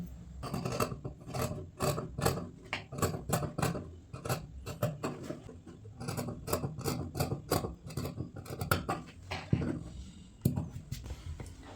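Scissors snip repeatedly through fabric while a kurti front and its neckline are cut out, giving a steady run of close, crisp rasping cuts with brief pauses between bursts.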